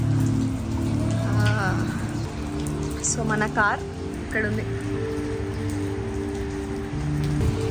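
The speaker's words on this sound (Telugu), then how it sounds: "వర్షం పడుతుంది." Steady rain falls outdoors near a parked car in America, a constant even patter and hiss that persists throughout while people talk, with some faint chirps in the background.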